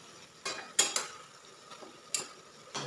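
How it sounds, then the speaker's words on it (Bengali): Spatula scrapes against a karahi as besan laddu mixture is stirred over a low flame until the sugar syrup dries, giving a few separate scraping strokes between quiet gaps. "এটাকে ততক্ষণ নাড়াচাড়া করে নিচ্ছি যতক্ষণ পর্যন্ত না চিনির রসটা ড্রাই হয়ে যায়"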